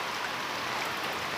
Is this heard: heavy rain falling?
yes